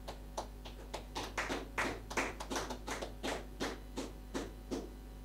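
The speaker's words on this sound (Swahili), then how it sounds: "Hiyo makofi imemfurahisha?" Applause at a church service, a run of sharp, fairly quick claps from what sounds like a small group, moderately loud over a steady low hum, with no talking.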